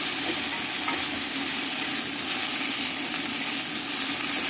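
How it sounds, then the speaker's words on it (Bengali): Turmeric and green chillies frying together in a pan give off a dense, even, loud sizzle with a faint rumble underneath, steady throughout with no talking. "হলুদ দিয়ে দিলাম, কাঁচা লঙ্কাটাও দিয়ে দিলাম, দিয়ে সব একসঙ্গে ভেজে নিচ্ছি।"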